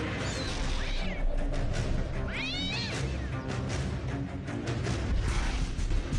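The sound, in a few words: domestic cat confronting a rat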